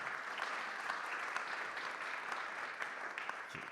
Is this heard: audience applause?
yes